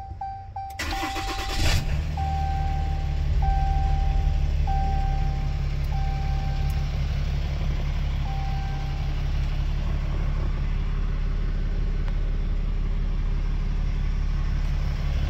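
A 2017 RAM 3500 pickup with a 6.7 HO engine and 96,000 miles cranks briefly and fires, then settles into a steady, deep idle heard up close, while a dashboard chime beeps repeatedly in the first seconds.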